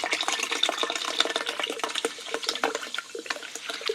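A Red Bull smoothie is poured out, giving a continuous splashing, gurgling stream of liquid that runs close and fairly loud for several seconds.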